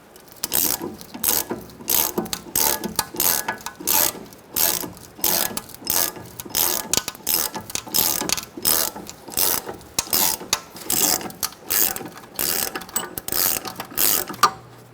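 A wheel hub puller being tightened on the rear hub of a 2014-2019 Kia Soul during a bearing and hub replacement makes loud, close ratchet clicking. The bursts come in regular repeated strokes separated by brief pauses.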